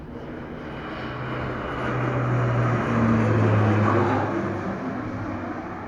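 An Air Tractor crop duster flies over a cornfield, its engine droning steadily and swelling louder as it passes near, then easing off, with no voices.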